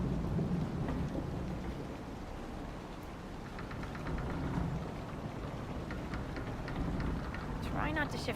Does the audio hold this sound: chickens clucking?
no